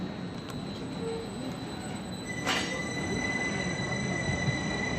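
A train passes at night, a faint, distant rolling rumble with a brief squeal of wheels midway.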